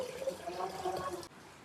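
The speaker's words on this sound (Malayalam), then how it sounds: "വെള്ളം ഒഴിക്കുകയാണ് കുപ്പി." Water pours into a glass bottle in a home kitchen with a short, faint filling gurgle whose pitch rises briefly before it stops abruptly.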